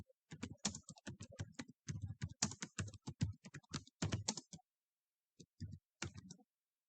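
Computer keyboard typing with mouse clicks, crisp close taps in quick irregular bursts, then a pause and a few scattered clicks near the end, with no voices.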